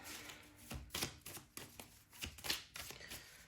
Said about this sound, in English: let's just see what else I can get from the tarot cards of what I'm shuffling right now